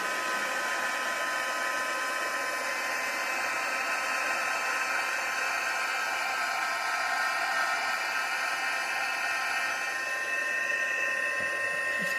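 A hair dryer runs steadily for about twelve seconds, drying paint on a small ocean-themed craft piece; a continuous, even whooshing hum with no talk over it.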